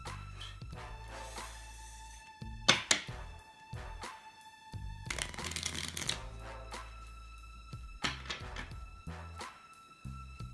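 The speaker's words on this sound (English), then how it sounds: "do you want me to shuffle the cards?" A deck of playing cards being shuffled for a magic card trick, with repeated riffling bursts and snapping card flicks close by, with quiet pauses between them.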